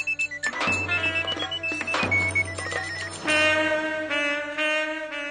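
Mobile phone ringing with a bright electronic melodic ringtone, repeated tonal phrases carrying on steadily and clearly, close and alone without talk.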